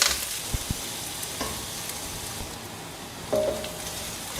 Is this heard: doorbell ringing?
no